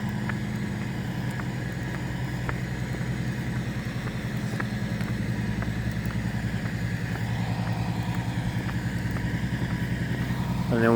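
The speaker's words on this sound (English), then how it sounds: "and then we got this engine over here." A vehicle engine idles steadily beside a storm drain cover at the site of a gasoline spill in Rockville, Maryland, a constant low rumble with a pulsing throb that holds at an even level throughout.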